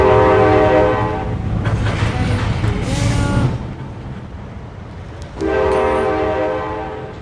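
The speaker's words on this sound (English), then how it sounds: "Amtrak who is coming to the station." An Amtrak train pulls into a station in the Trainz rail simulator, its horn blaring in a long loud blast and then again after a pause, over steady rolling rumble and clatter of the cars.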